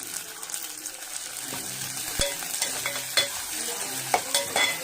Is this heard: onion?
yes